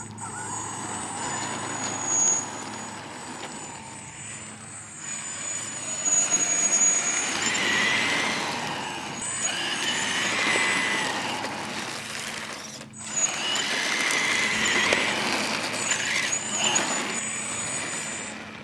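A 3D-printed RC muscle car on a 2S LiPo battery with 3D-printed tires whirs past with a thin high-pitched electric motor whine that rises and fades over a dull rolling rumble.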